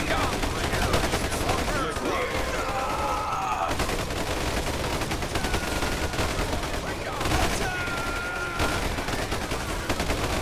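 Gunfire in the battle game Ultimate Epic Battle Simulator, with dense overlapping shots and bursts crackling continuously throughout, layered with other game noise and some whistling tones in places.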